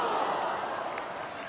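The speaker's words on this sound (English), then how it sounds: "The ooh from the crowd." Football crowd at an A-League women's match groaning a broad, swelling ooh after a long-range near-miss shot, a dense distant roar of many voices that fades over a second and a half.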